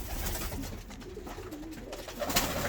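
Pigeons of balloon and Russian breeds coo in soft, repeated low calls at close range, with a steady murmur of background noise and no talking.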